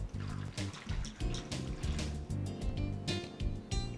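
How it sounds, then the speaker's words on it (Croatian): Red wine is poured into a pot of washed, destemmed grapes while making grape jelly, a soft gurgling trickle of liquid heard up close and fairly quiet. "Ulijemo crno vino."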